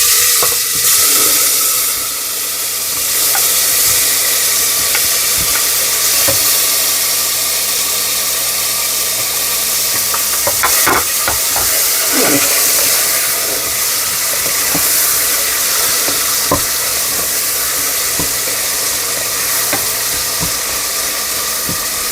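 Tomatoes and green chillies frying in a pan for pav bhaji give off a loud, steady sizzle that lasts throughout, with occasional stirring scrapes and no talking.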